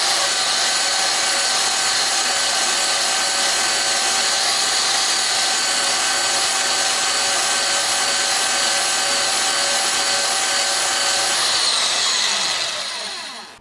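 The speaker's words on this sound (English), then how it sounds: "this is where the bandsaw starts to not shine as much because it takes a bit to cut through something like this" A bandsaw grinds slowly through thick steel angle with a loud, steady, whining hum and a harsh rasp. It holds constant for about twelve seconds, then the blade spins down and fades at the end.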